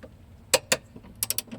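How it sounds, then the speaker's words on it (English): A wrench ratchets on the bolts of a car's rear shock absorber, making a few sharp metallic clicks: two separate clicks, then a quick burst of three. The clicks are close and sound against a quiet background. "The upper bolts I tighten to 50 Nm plus an additional 45 degrees."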